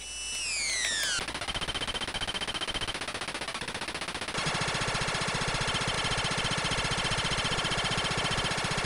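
Rapid gunfire from a picked-up gun in the Akira video game, a fast chiptune-style rattle of shots repeating steadily over an electronic hum and falling tones.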